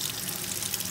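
Water streams steadily from a tap into a sink over a pink bath bomb, a continuous close hiss and splash with no voices.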